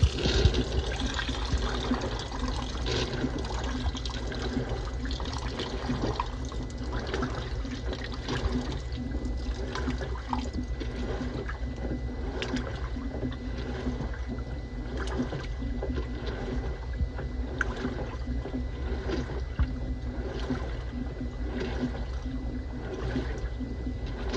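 Hot water rushing steadily into a washing machine during a towels and sheets cycle, a continuous broadband flow with gurgling, heard alone and fairly loud throughout.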